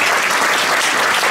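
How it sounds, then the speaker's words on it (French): A studio audience applauds game show contestants on a televised hypnosis quiz show, a dense, steady wash of clapping from many hands filling the whole moment at close range. "le public vous applaudit"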